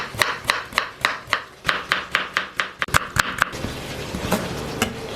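A small piece of ginger is chopped with a knife on a board, a quick run of regular close knocks that turns into faster, denser chopping near the end.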